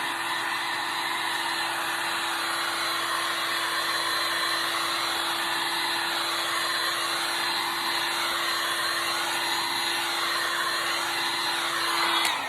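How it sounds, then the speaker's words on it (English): A heat gun warming epoxy on a tumbler blows a steady, loud airy roar with a constant motor whine running unbroken throughout, dropping off only at the very end. "Seek One heat gun. Going to heat up the epoxy just a little bit, not too much."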